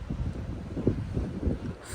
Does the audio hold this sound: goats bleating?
no